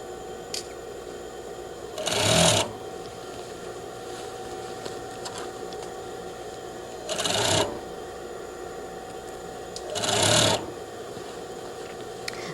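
Sewing machine joining a skirt to its waistband, heard as three short separate bursts of stitching over a steady background hum, each lasting under a second.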